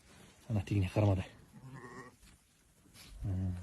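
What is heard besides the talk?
sheep bleating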